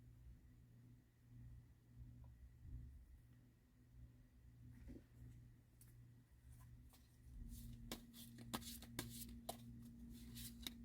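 Tarot cards are shuffled and drawn in a quiet room, with faint soft rustling that gives way to a run of crisp flicks and taps near the end, close by and without talk.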